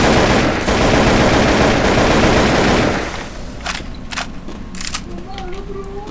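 Rapid gunfire in the zombie shooter Left 4 Dead 2, a dense roar of sustained shots for about three seconds, then scattered sharper bursts at a distance, with people talking throughout.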